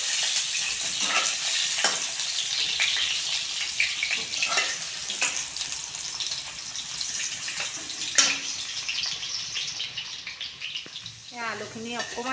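Hot oil fries in a pan for a drumstick curry, a steady sizzling hiss broken by repeated stirring clicks and scrapes, with a brief voice near the end.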